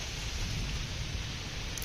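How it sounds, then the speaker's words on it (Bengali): Steady, continuous patter of rain just beginning to fall, a broad even hiss with low rumbling texture throughout, no voices. "বৃষ্টি স্টার্ট, ওয়েদার পুরো ঠান্ডা হয়ে গেছে।"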